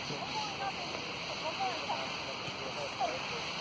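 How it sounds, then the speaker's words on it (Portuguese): Water runs through a forest stream with a soft, steady rushing murmur, faint and continuous, as a voice and occasional bird-like chirps sit lightly over it. "vocês estão ouvindo o barulho, é o barulho da água"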